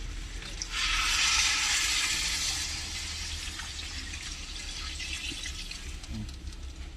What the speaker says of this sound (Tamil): இப்போ பார்த்தீங்கன்னா வந்துட்டு நம்ம பச்சை தண்ணி ஊற்றிக்கலாம்.